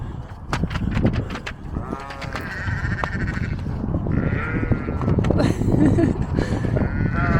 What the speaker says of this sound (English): Yeah, they are noisy, aren't they? There's so many lovely lambs here.